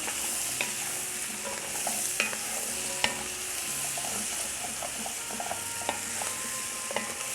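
Sliced carrots sautéing with onion and spices in a pan, a steady close sizzle and fry broken by scattered clicks and scrapes of a stirring utensil.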